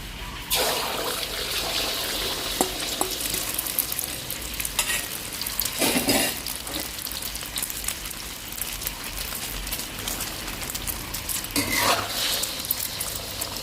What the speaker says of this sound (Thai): น้ำมันร้อนใส่ไข่ลงไปค่ะ